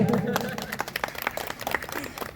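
Applause from an audience at a family get-together, a brief burst of clapping mixed with crowd chatter and voices, fairly close and moderately loud.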